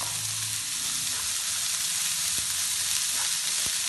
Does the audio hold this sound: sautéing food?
yes